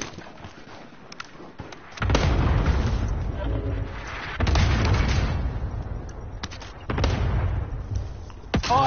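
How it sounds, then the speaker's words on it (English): Cluster strike explosions in a video game arrive as a series of heavy, booming blasts in close succession, each with a rolling rumble, while voices talk over the chaos. "Allied cluster strike arriving."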